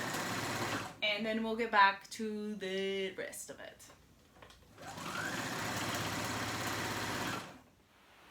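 A sewing machine runs a stretch stitch around a garment seam at a 1 inch allowance, a steady mechanical whir of about two and a half seconds following a stretch of nearby talking.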